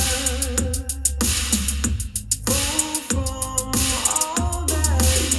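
Zebronics Juke Bar 9010C 140W Dolby soundbar playing music with the treble raised: dense full-band sound with crisp, bright highs over steady bass and sustained tonal lines, loud and continuous with no talking.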